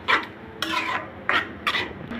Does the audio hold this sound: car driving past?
no